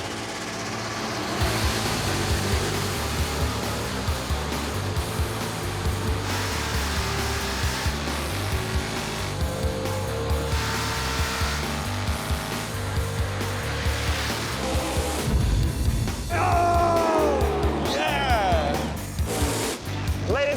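Drag race cars roar down the track in a long, loud, unbroken blast of engine noise. A commentator speaks over it, and near the end the tone sweeps and shifts as the cars pass.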